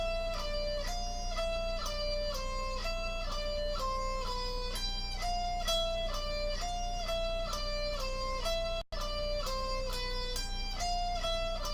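A guitar picking-pattern exercise played straight through four times without pauses: steady, evenly spaced picked notes in a repeating melodic figure, clear and close, over a faint low hum, with one brief dropout near the end.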